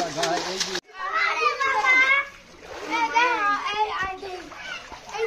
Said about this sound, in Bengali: ট্যাঙ্কের মধ্যে জল ভরে এখানে সাঁতার শেখা হচ্ছে।